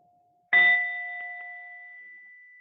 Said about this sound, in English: As you hear the bell,